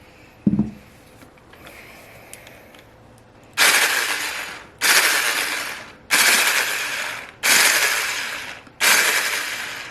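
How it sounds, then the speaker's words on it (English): Electric mixer whipping cream in short bursts, five loud whirring pulses of about a second each separated by brief pauses, following a quiet stretch with a single clack at the start. "I might mix it just a little bit more."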